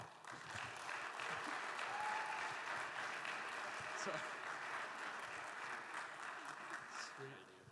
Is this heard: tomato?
no